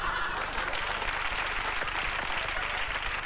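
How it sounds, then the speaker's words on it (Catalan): A large audience at a comedy show about town festivals applauds steadily, a moderately loud, continuous wash of many hands clapping without a break. "I la gent aplaudeix."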